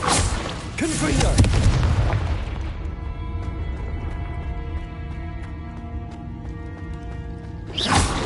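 Casting the Confringo fire spell in Hogwarts Legacy sets off a heavy, booming blast up close that rolls into a long, ringing tonal decay, and a second burst erupts right at the end. No one speaks.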